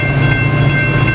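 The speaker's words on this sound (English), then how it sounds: "Here comes the northbound coaster out of" A northbound Coaster commuter train, number 201, rolls past in San Diego's quiet zone with a loud, steady rumble and a high metallic ring, close by and continuous.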